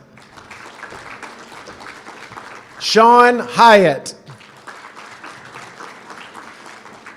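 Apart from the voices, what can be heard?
audience applause at student awards night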